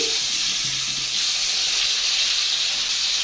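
Paneer pieces frying in oil tinted with turmeric, a steady bright sizzle and hiss throughout, close and even with no talking.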